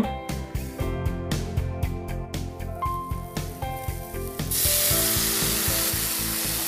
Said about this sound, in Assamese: এতিয়া প্ৰায় 2 পৰা 3 মিনিট সময়ৰ বাবে দাইলখিনি ভালদৰে ভাজিব